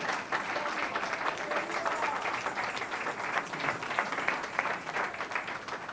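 A church congregation claps for the Lord during a Spanish-language sermon, dense and sustained applause at moderate loudness filling the whole stretch, with a faint murmur of voices underneath.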